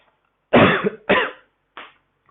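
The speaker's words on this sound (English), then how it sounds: "And second one is coughing." Three deliberate coughs, two strong ones close together followed by a softer third, close and clear against silence.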